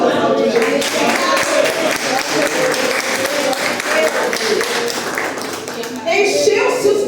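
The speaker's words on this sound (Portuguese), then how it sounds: "Você pode aplaudir, gente." Church congregation at a women's campaign service applauds, steady mid-loud clapping and crowd murmur running throughout with voices mixed in, swelling again near the end.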